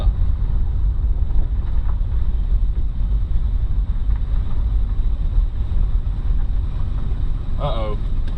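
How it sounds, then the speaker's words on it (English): A 1977 Mercury Marquis being driven with an exhaust that sounds backed up, giving a steady low rumble with wind and road noise throughout the cabin; a brief higher sound rises near the end. "I think it needs some exhaust work, because it really sounds like it's backed up."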